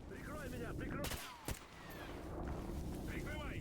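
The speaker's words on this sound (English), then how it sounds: "I'm just shooting into the bush." Video game gunfire in S.T.A.L.K.E.R. GAMMA, sharp cracking shots among a dense outdoor background, one or two loud reports standing out over a constant rumble.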